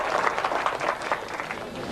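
A crowd claps for a president in a film scene, a fairly dense burst of applause that swells and eases slightly over two seconds, with no clear talk.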